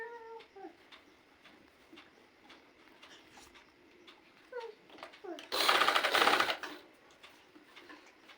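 A sewing machine runs in one short, loud burst while stitching the hem of a baby's dress, set between stretches of a voice talking quietly.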